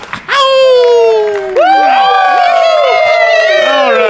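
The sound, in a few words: crowd cheering excitedly as Wolf Beamer steps on stage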